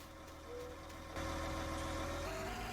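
A tractor engine idles in a farming video game on a West Texas map, a steady low drone that grows louder partway through and then holds at a constant level with no voices.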